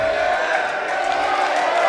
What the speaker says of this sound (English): the crowd are letting the referee know what they think of that decision